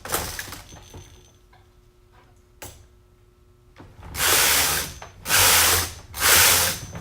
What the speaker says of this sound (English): take the carriage across really slowly for that first row